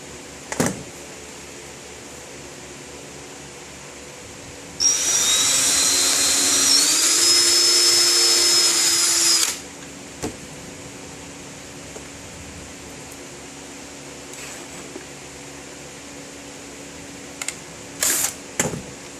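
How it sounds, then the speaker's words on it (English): Power drill boring a pilot hole while building a homemade belt sander: one loud, steady whirring burst of about five seconds, close by, with quiet handling clicks and taps before and after. "now let me just make the second pilot hole"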